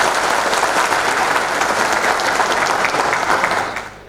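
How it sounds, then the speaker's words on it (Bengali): Applause from a large audience at a partner meet gala night, a dense, loud, continuous clapping that holds steady for several seconds and then fades out quickly. "আমি একটি জোরে করতালি আশা করছি সবার উদ্দেশ্যে"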